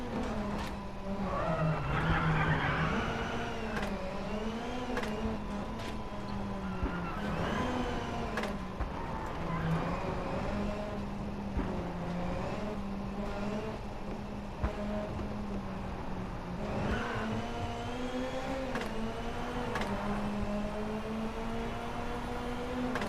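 A Ford Fiesta WRC rally car runs at full throttle on reverse tarmac at Freisen in the WRC 9 video game. The engine drones steadily throughout, pitch rising and falling through gear changes, with occasional brief clicks and no speech.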